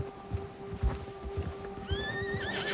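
A spooked horse whinnies near the end of a stretch of hoofbeats and ambient sound in Red Dead Redemption 2, its rising neigh loud and close after a bear scares it, with no talk over it.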